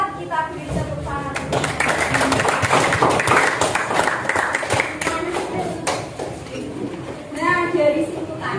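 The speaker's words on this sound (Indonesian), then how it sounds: "Kita beri tepuk tangan." Students in an Indonesian school science lesson clap for classmates returning to their seats, a dense patter of hand claps mixed with children's chatter and shouts, with a teacher's voice rising near the end.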